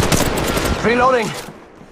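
A burst of rapid automatic gunfire in the Apex Legends Mobile shooter hits the player, loud and close. Game sound effects sweep through the middle of it, and then everything cuts off into near silence.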